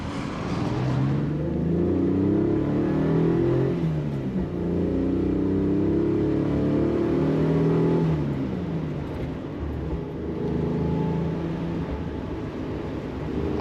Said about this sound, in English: The engine is still very torquey, it's refined, it has a lovely sort of deep warble at the lower revs